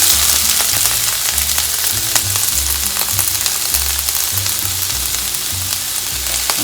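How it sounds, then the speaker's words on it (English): Onion, carrots and celery sizzle loudly in a hot pan, a steady close frying hiss over a low rumbling burner, continuous with no talk. "now we're going to go ahead and put in our onion, carrots, and celery"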